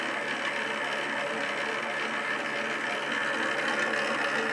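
A FAMAG spiral dough mixer runs with its bowl turning at speed 4, giving a steady, even mechanical whir with fine ratcheting and gear texture, constant in level throughout and with no voices.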